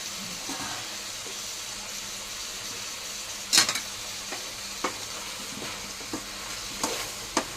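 Fried pieces of bottle gourd and radish with coriander powder sizzle in a pan while a spoon stirs, giving a soft continuous hiss with scattered scrapes and one sharp clank.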